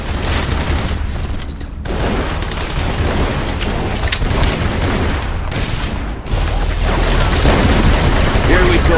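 Gunfire and explosions in The Saboteur video game: dense, loud volleys of shots and booming blasts crowding together without pause, with voices and music mixed in underneath.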